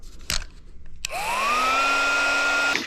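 A heat gun blows on a coolant hose of a VW Vanagon, starting after a couple of clicks with a rising whine that settles into a loud, steady close-up airflow roar and a high tone before cutting off.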